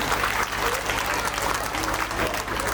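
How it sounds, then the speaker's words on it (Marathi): Steady, dense applause from a large audience at a Shivaji Jayanti speech honouring Chhatrapati Shivaji Maharaj, sustained and loud throughout with a low hum underneath. "त्यांच्यासाठी जोरदार टाळ्या वाजवूया आपण"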